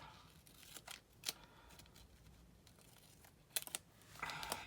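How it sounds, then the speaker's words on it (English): Scissors snip through a sheet of planner paper to cut it in half, giving a few quiet, sharp cutting strokes spaced apart against a faint room background. "I think I'll go this way, cut it in half."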